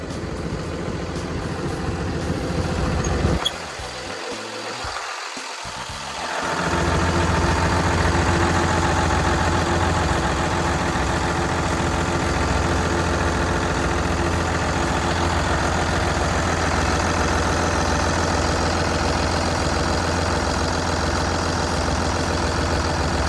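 A Komatsu WA380-7 wheel loader's Komatsu 6D107 diesel engine idles steadily and close by, a constant mechanical drone that drops briefly in the early seconds and then settles into an even, slightly louder hum.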